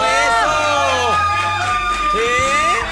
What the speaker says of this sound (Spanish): Público en vivo, que se oiga nuestro público.